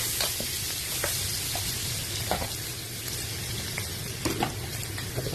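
Onion and garlic fry in a hot pan, giving a steady, loud sizzle with small crackles and pops throughout and no talking over it.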